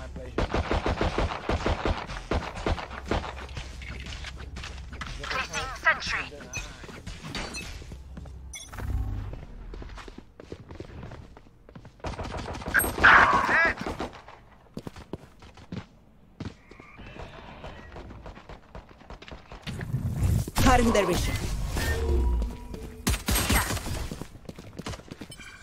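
Gunfire in the video game Valorant comes in repeated sharp bursts and rapid volleys, with quieter gaps, footsteps and other game sounds between the shots.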